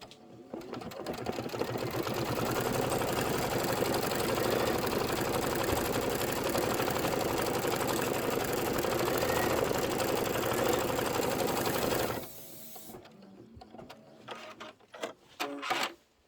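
An embroidery machine stitches with a rapid, steady mechanical whir for about twelve seconds, then stops, leaving scattered clicks and handling noises.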